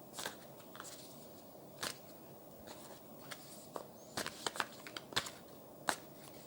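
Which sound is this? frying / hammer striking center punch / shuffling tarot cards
shuffling tarot cards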